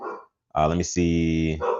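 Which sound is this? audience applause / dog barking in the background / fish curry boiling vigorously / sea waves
dog barking in the background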